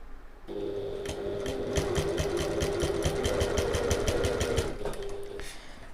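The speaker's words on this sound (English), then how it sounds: "we'll just stitch down each edge using our top stitching length and 1/8 of an inch or 3mm away from the edge" Sewing machine top-stitching the folded edges of a strap tab, running a steady fast chatter of needle strokes for about four seconds before stopping, close and clear with no talk.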